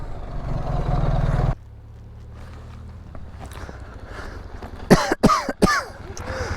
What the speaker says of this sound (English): Coughing in your dust